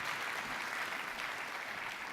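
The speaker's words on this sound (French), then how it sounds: "Vous pouvez l'applaudir." A conference audience applauds steadily for an incoming speaker at a forum on transition in Monaco, a dense, even wash of clapping that holds throughout with no voices over it.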